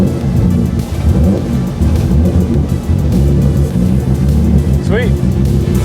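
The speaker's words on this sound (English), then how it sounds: "I'm just gonna fire it up and hopefully it just goes" A 1000-horsepower Nissan 350Z with a VQ engine, on a cold day, roars loudly and close throughout in a dense, continuous rumble, with a faint voice in the background.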